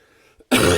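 A single thick, crunchy cough bursts in loud and close after a brief quiet pause and a small throat sound, rough and phlegmy through to the end.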